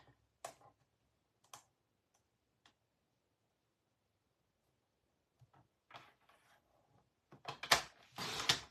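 A paper trimmer cuts a narrow 9 by 2 centimetre cardstock strip for handmade card making: a few faint, sparse clicks, then a louder burst of close scraping and sliding blade strokes at the end.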